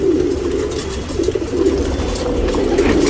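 A female tournament pigeon coos softly and steadily, the low murmuring call running throughout beneath a constant hiss of background noise.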